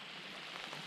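Rain comes down at a campsite at Murtle Lake, a soft, even hiss of countless drops with light patters in it, steady and fairly faint, with no voices.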